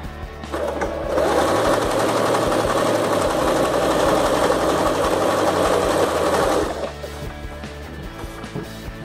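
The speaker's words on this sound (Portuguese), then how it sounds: "eu vou fazer a demonstração dele pra gente ver como que esse pezinho é eficiente e ajuda bastante na hora que a gente vai costurar esse tipo de tecido" A domestic sewing machine fitted with a Teflon presser foot stitches synthetic leather, its motor whirring in a loud, steady mechanical run for about six seconds before winding down to a quieter hum.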